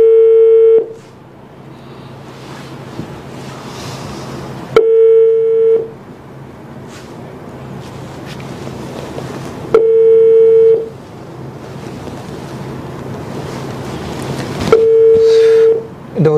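A telephone ringing tone repeats in four long, loud, steady bursts spaced several seconds apart, with quieter murmuring background noise in the gaps between rings.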